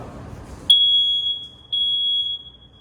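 A piercing, high electronic smoke alarm beep sounds twice at a fire station, each tone held for about a second, loud and close with a quiet room around it.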